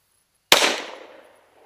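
A single sharp gunshot fired at a steel target 25 yards away, one loud crack with a ringing decay lasting under a second, heard alone against silence.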